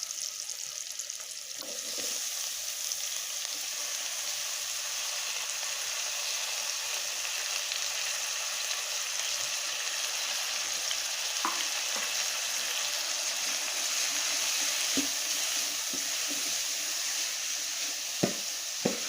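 Cabbage sizzles and crackles steadily in a hot pan while being stir-fried for spicy cabbage fried rice, a dense close frying hiss with occasional sharper pops near the end.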